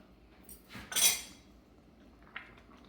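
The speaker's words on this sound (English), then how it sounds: "You stir it." A spoon clinks and scrapes against a pot while stirring a milk mixture for stuffed zucchini, with a louder cluster of metallic clatter near the middle and a single light tap toward the end.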